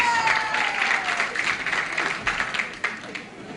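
Audience applause for a young woman, steady clapping from a crowd throughout, fairly loud and close, fading slightly toward the end, with a faint voice underneath.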